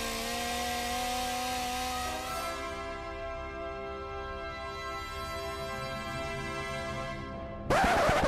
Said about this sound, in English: the obvious discovery of the chainsaw released the true potential of